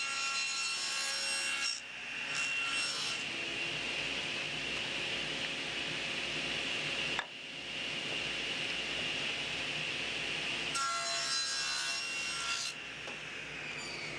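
Table saw blade spinning and cutting an offset tenon in wood, a loud, sustained whirring rasp broken by brief dips as the workpiece is repositioned between passes, close and without talk.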